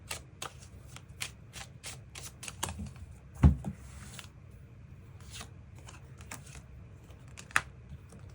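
Tarot cards being shuffled and drawn by hand: a run of quick papery riffles and soft slides, close and fairly quiet, with one louder thump midway and a sharp click near the end.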